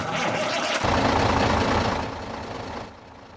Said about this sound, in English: Which is the really loud truck, I might add.